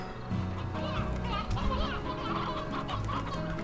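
Chickens cluck in the farm-game world of Slime Rancher, a steady busy chatter of fowl sounds layered over background game music and effects, with a voice talking faintly beneath.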